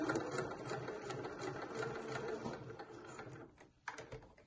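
A sewing machine stitches a pyjama-pants waistband, its motor running in a steady, even whir for several seconds at close range before slowing and stopping near the end.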